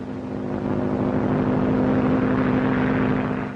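A 1930s propeller airplane drones steadily as it comes down to land at Southfield airfield, its engine hum swelling, holding loud and constant, then easing slightly.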